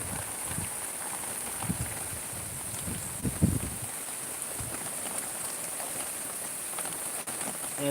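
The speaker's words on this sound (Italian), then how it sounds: "sta piovendo abbastanza forte" Heavy rain falling outside a window, a constant hissing patter with a few closer drips and knocks, fairly soft and continuous.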